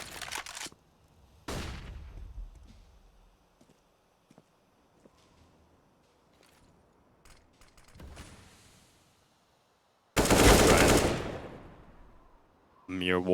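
AK rifle fire in Counter-Strike on the Nuke map, a few sharp separated bursts with one loud longer volley near the end, scattered footsteps between them.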